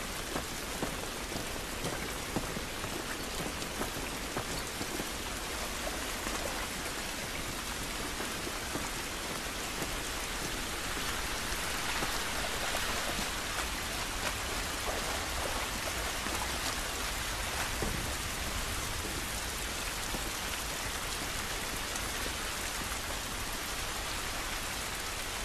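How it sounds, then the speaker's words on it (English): Steady, dense rainfall in the video game The Last of Us Remastered patters down continuously, a constant hiss of drops on surfaces with no voices, holding level throughout. "This rain ain't gonna do us any good."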